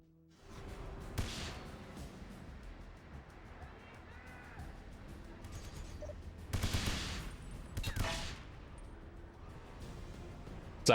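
Gunfire in the PS2 shooter 007: Everything or Nothing, a few sharp shots and bursts over rumbling game background, the loudest clusters near the middle and a final crack at the end.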